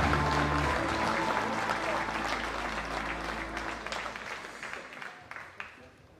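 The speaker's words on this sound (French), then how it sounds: "peut encore les applaudir très fort" Loud, dense applause from an audience for four contestants at the Reine de la Dentelle 2025 pageant, sustained with music underneath and gradually thinning toward the end.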